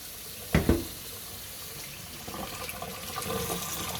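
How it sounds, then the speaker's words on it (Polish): Cold tap water runs over cooked noodles in a kitchen sink, a soft, steady splashing that grows fuller midway, preceded by two sharp knocks of a pot or strainer. "Przelewamy zimną wodą, tak?"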